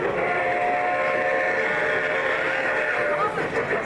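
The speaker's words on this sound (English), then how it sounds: "It's a passenger train." Narrow gauge model passenger train running past on a layout at a model railroad meet, a steady close rumble with faint whistle-like tones, while a voice talks over it throughout.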